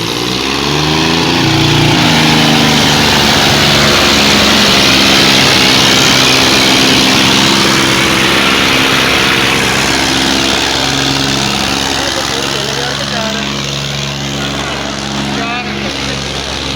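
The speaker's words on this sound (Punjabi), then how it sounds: "ਲੋ ਜੀ ਫੋਰਡ 4000 ਟਰੈਕਟਰ ਆ ਜੀ" A Ford 4000 tractor engine labors steadily while pulling a large disc in a tractor disc-pulling contest, a loud, close, continuous drone that holds for the whole stretch, with voices calling out over it.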